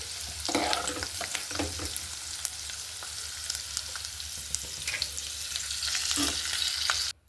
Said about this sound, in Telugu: లైట్గా వేగిపోయాయండి ఇప్పుడు మనం తీసుకొని పక్కన పెట్టేసుకుందాం